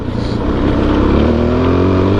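Suzuki DR-Z motorcycle single-cylinder engine running on its stock exhaust with the snorkel removed, a loud, steady close-up drone with a low pitch that climbs slightly as it revs, no talking.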